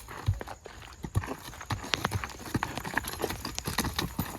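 Horse hooves clip-clop at a brisk, steady pace, with sharp repeated strikes on the ground throughout, close and fairly clear over a light outdoor background.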